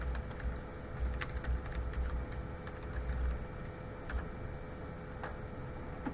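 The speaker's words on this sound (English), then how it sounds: "If I can type, we'll be fine." Typing on a computer keyboard, with sparse, irregular soft key clicks over a low background hum and no talking.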